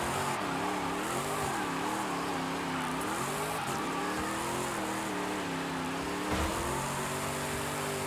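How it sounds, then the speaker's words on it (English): A loud, steady muscle car wagon engine in the video game Forza Horizon 5 roars throughout, its pitch rising and falling as it revs, with a brief tire squeal near the end. "Why is that engine so loud?"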